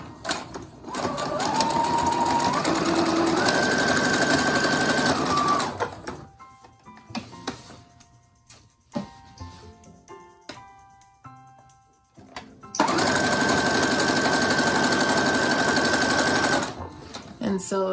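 A sewing machine stitching a fabric seam for a couch pillow runs loudly in two long steady bursts with a quieter pause of handling sounds between them, while a person talks.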